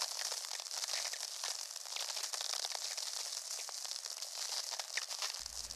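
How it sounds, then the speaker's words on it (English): Very low frequency radio emissions from lightning, converted directly to sound: a continuous dense hiss crowded with sharp cracks, pops and crackles, steady and fairly faint with no voices present. "if we convert the radio signal directly to sound, we hear this cacophony of cracks and pops"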